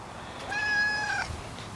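A cat gives one clear, drawn-out meow close by in an outdoor garage setting, rising and falling over about a second against faint background noise.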